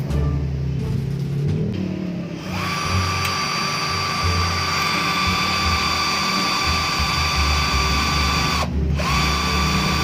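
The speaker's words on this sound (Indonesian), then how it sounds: "Pakai 15 kita untuk ngebor besi" A Xenon CDID 1845 18-volt cordless drill whines into iron, spinning up after a couple of seconds and running at a steady high pitch, with a brief dip near the end.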